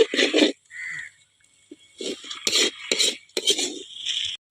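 A spoon scrapes and stirs mackerel fish curry masala in a pan, in close, rough bursts of metallic scraping separated by short pauses, with no voices.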